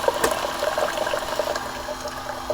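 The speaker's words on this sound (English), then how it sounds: "Usually this takes a little bit of time for the water to heat up, about a minute from when it draws it out of the reservoir here." Water is drawn from the reservoir of a heating appliance running on a Bluetti AC200L power station, heard as a close, steady gurgling and trickling flow with small bubbling pops throughout.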